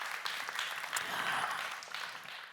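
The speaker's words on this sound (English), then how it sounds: "Round of applause for this project again." An audience at a symposium claps in a sustained, fairly steady round of applause, broad and moderately distant, swelling slightly in the middle before tapering off.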